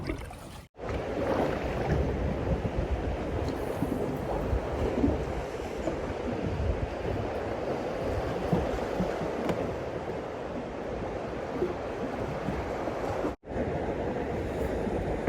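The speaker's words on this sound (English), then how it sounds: "It's extremely windy." Strong, steady wind on a bay roars and buffets the microphone for the whole stretch, with a broad low rumble and two brief dropouts.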